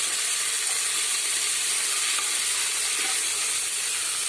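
Corn kernels sizzle in a hot pan with a loud, steady, bright hiss that lasts throughout without a break.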